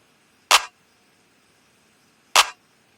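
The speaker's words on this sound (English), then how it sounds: "Then I got the claps, just basic pattern." Two crisp, sharp claps from a basic pattern in an FL Studio beat snap out about two seconds apart, bright and isolated against near silence.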